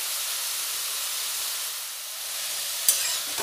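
Spinach and mixed vegetables frying in a pan with salt and turmeric, giving a steady close hiss with one brief scrape near the end, no talking.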